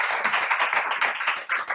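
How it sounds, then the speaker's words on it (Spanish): Audience clapping at a hybrid business school event in Barcelona, a short, loud, dense patter of hands close by with no voices over it. "vamos a darles un aplauso"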